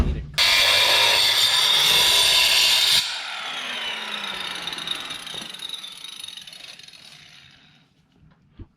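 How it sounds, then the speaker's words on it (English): Power tool cutting off an old motor mount on a Tacoma drift truck: a loud, harsh high-pitched grinding burst for about three seconds, then a quieter whirring wind-down as the tool slows and fades out. "I am cutting this motor mount off."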